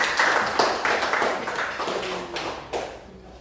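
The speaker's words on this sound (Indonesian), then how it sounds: "Tepuk tangan lagi buat kelompok kita." Clapping from a group of students in a classroom, a scattered burst of hand claps that thins out over a few seconds, fairly close and fading toward the end.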